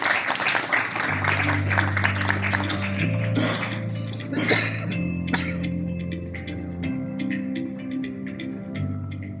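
Audience applause at an industrial conclave welcoming a speaker: dense steady clapping that goes on throughout, with sustained music tones underneath and no speech.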